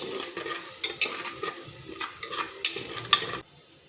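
Spices such as cumin powder, Kashmiri red chilli and salt are stirred into a sizzling mung bean curry, with a close, steady crackle of frying and repeated quick scrapes and clinks of a spoon against the pan, ending abruptly.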